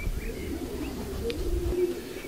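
Racing pigeons coo in soft, low, continuous murmurs close by. No one talks over the calls.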